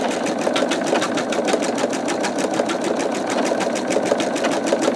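An embroidery machine stitches a skull design in a hoop, its rapid even needle rhythm chattering close and loud without pause.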